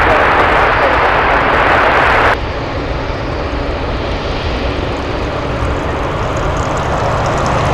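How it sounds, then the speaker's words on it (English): A Boeing 747 heavy jet on landing approach at Anchorage airport gives a loud, sustained engine roar that drops in brightness partway through and then continues as a steady, lower rumble. "Boeing 747, just over the shoreline, runway 7 right"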